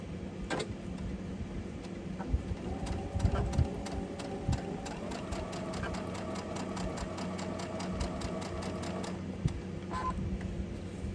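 A sewing machine stitches quilt pieces for a Lone Star Liberty quilt with a quarter-inch seam, running in a steady mechanical whir with a rapid needle rhythm throughout, close and moderately loud.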